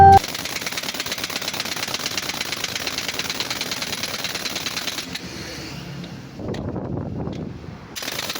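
Pneumatic impact tool on an air hose tightening lug nuts on a truck tire, a loud rapid rattling hammer that runs for several seconds, then eases into a quieter mechanical hum.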